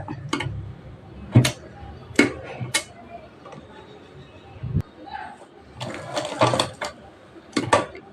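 A sewing machine stitches a half-inch folded hem on princess-cut blouse fabric, giving short, intermittent mechanical clatters and ticks separated by quieter pauses, with some indistinct background sound.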